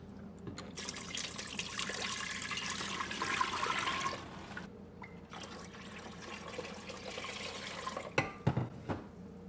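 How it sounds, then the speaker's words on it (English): Six cups of cold water poured into a pot on a kitchen stove for homemade chai, a steady splashing, gurgling stream close by that runs for about four seconds, pauses, then continues before a few clinks at the end. "Now into this pot, I'm going to add 6 cups of cold water."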